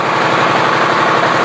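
A Honda Shadow 600 motorcycle engine with an electrical fault, heavily modified and behind on maintenance, runs at a steady idle, a continuous close rumble with no talking.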